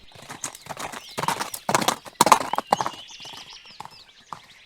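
Horse hooves clip-clop in a quick, uneven run as the rider spurs it on, with a short whinny mixed in; the steps sound close and fairly loud, with no talking.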